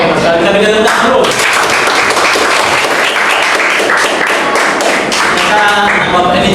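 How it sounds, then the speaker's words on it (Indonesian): A classroom of students claps together for several seconds, a steady dense patter of hands with voices mixed in underneath. "Kita berikan tepuk tangan dulu."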